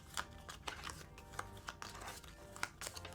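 Playing cards being shuffled by hand in a quiet room, a few short riffled bursts with soft pauses between them, close and fairly faint.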